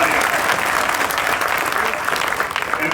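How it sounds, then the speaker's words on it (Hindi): Loud, sustained applause from a crowd at a political gathering, clapping in honour of Rekha, steady and dense for the full three seconds with a faint voice mixed in. "इसलिए रेखा जी के लिए जोरदार तालियां"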